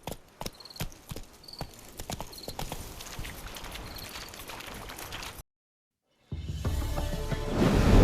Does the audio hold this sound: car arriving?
no